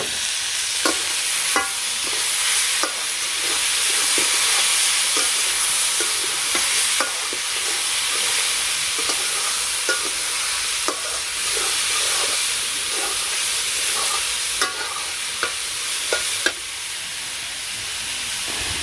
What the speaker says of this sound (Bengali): তো এভাবে ভাজি করব অনেক সময় ধরে।